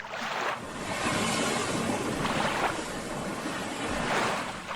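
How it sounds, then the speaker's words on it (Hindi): Sea waves roll in and break, with broad surging washes that swell and recede about every two seconds over a constant roar of surf and wind, loud and close with no voices. "समंदर के लहरों की आवाज हर तरफ गूंज रहा था"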